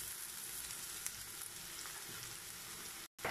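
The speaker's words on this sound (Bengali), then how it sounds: "তারপরে দিয়ে দেবো মরিচ। এখন এটাকে আমি একটু ভেজে নেব।" Chili frying in oil in a pan, likely with garlic, a steady close hiss of sizzling that runs without a break and drops out for a moment near the end.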